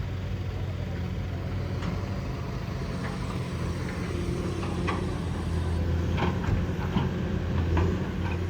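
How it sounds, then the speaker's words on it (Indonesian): Heavy equipment works on a road blocked by landslide material, a steady low diesel rumble with scattered scrapes and clanks, moderately distant and continuous. "Ini di depan ada alat berat yang kerja."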